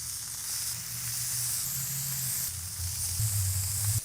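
Around six slices of bacon sizzle steadily on a griddle, a close, continuous crackling hiss with slight swells in intensity and no talking.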